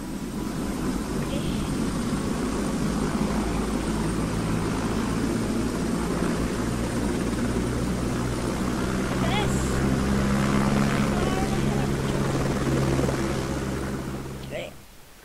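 Helicopter engines in a Minecraft helicopter mod drone steadily and loudly, a constant whirring rotor and engine hum that holds through the whole stretch before fading at the end.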